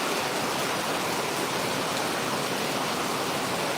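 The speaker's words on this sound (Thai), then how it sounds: "เอาแล้วครับ ฝนตก" Steady, dense rain falls at a farm in Pluak Daeng district, Rayong province, a continuous close hiss of drops with no pauses and no voices.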